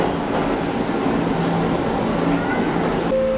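Rumble of an A train subway ride heard from inside the car, a steady loud roar with faint rail clatter and a brief tonal squeal near the end.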